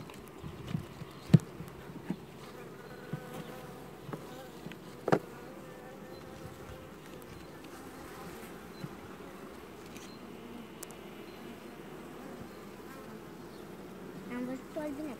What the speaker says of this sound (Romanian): Am văzut o albine care are polen.